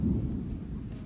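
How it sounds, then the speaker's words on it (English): Deep, heavy thunder from a bad thunderstorm outdoors, a loud sustained low rumble rolling steadily through the whole short moment with no voices. "it's a bad thunderstorm outside. I don't like thunder."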